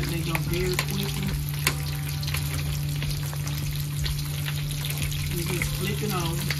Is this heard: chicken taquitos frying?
yes